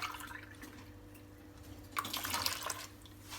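Water is poured from a glass into baghrir batter in a bowl, a soft close trickle and splash that swells briefly midway.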